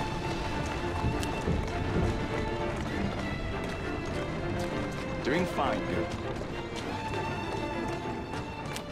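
Steady hoofbeats of a running horse in Assassin's Creed Syndicate, over busy game ambience, with someone speaking briefly and a short whinny midway.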